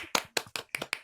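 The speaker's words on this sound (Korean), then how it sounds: "여러분 박수로 맞이해 주시기 바랍니다" Five or six crisp, close hand claps in a quick, slightly uneven rhythm, welcoming a guest onto a podcast recording, sharp and dry with brief silences between them.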